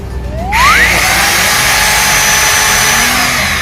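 A Pumpkin PTT2-26DFV 800W rotary hammer drill kicks in abruptly after a brief hum, its motor whining up in pitch and then running loud and steady.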